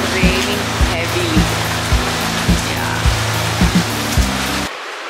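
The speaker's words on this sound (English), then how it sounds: "it's raining heavily" Heavy rain falls in a steady, dense hiss during a downpour in India, with a low rhythmic thumping underneath and the wash cutting off near the end.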